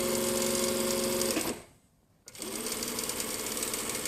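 A sewing machine stitching jacket fabric runs in a loud, fast mechanical hum, stops briefly for about a second, then starts up again at the same steady pace.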